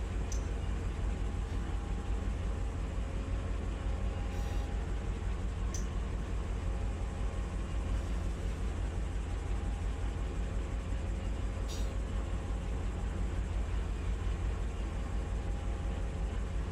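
A long, heavy freight train in the Run8 train simulator game, producing a steady low rumble and hum with faint clicks and a few brief higher tones over the top.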